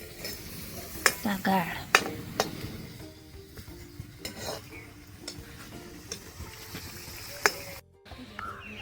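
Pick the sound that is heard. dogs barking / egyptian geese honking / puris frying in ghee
puris frying in ghee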